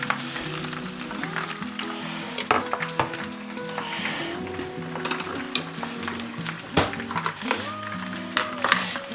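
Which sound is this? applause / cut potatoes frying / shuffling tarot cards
cut potatoes frying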